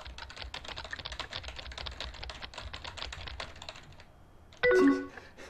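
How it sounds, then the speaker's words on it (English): Rapid, steady typing on a computer keyboard continues for several seconds. A short electronic chime plays near the end. "I'm typing like a super nerd"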